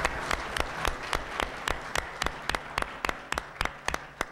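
Scattered applause from a small audience at a leadership forum, a thin background patter broken by sharp, distinct individual claps landing unevenly and close by for several seconds.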